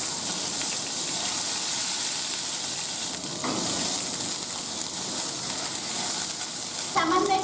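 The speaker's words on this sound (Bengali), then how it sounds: "এবার আমি এই তেলের মধ্যে দিয়ে দিচ্ছি শুকনো লঙ্কা, আর দিয়ে দিচ্ছি একটু গোটা জিরে।" Dry red chillies and whole cumin sizzle loudly and steadily in hot oil for ghugni, a dense continuous hiss with a brief flare partway through and a small clatter of stirring near the end.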